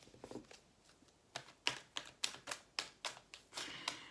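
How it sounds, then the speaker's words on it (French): Tarot cards being shuffled in a quick series of about ten sharp, evenly spaced slaps and snaps, close and dry, preceded by a few softer riffles, with no voice. "Je continue de brasser parce que je sens qu'il y a d'autres cartes qui sont censées arriver"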